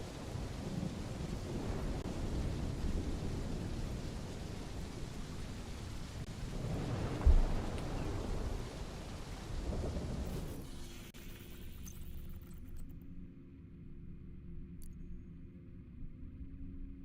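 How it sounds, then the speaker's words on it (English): Steady rain hiss and low rumbling thunder fill a nighttime open-world video game scene, loud and continuous, with a deeper roll near the middle before the storm fades into a quieter hum. "I think it's raining and nighttime"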